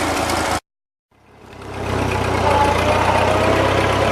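A 1941 Ford 9N tractor engine rumbles steadily with a low, even idle. It fades in after a brief silent gap and holds at a moderate, close level.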